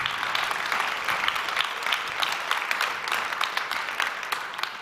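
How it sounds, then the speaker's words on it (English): Audience applause at the main stage of a social innovation and clean technology festival, an even, sustained patter of many hands clapping from a sizeable crowd, moderately loud and without speech. "let's give a big, big applause to everybody who took the effort to come here and be here with us."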